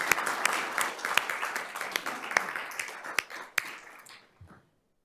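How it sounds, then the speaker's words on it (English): Scattered applause from a small audience at a school board meeting: uneven, sparse claps with a few sharp, louder hand strikes, fading out after about four seconds. "you should clap"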